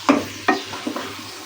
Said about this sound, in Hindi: हल्का सा इसको मिक्स करेंगे